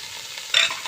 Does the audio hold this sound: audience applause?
no